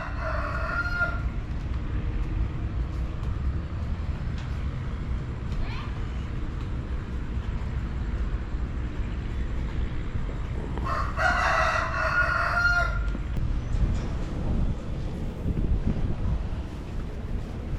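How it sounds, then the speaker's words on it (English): Chickens and a rooster crowing aboard a catamaran-style boat in Phnom Penh, Cambodia, two drawn-out crows a few seconds apart over steady wind and engine rumble, with people talking in the background. "There are chickens on board that are inhabiting this boat."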